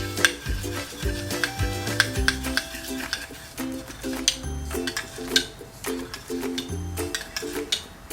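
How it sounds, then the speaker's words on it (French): A homemade beauty product mixture is stirred in a small container, giving repeated quick clinks and scrapes at an uneven rhythm over background music. "je mélange jusqu'à obtenir l'homogénéité du produit"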